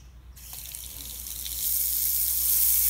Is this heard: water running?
yes